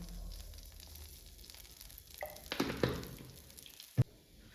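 Cooking oil heats in a kadai over a stove, giving a soft, steady sizzle with a few drips and a sharp clink near the end, heard close with no talking.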